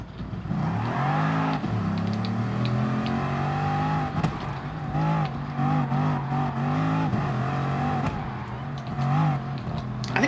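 One of the biggest cars in a racing video game revs hard, its engine note climbing and falling through repeated pitch sweeps, loud and close, with no one talking.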